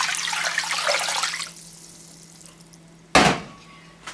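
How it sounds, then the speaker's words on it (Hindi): Water poured into a cooking pot of chicken with salt and ginger-garlic paste for murgh pilau biryani, a steady broadband pour for about a second and a half, then a quieter pause and a brief loud splash near the end. "और आप ऐड करेंगे इसमें पानी।"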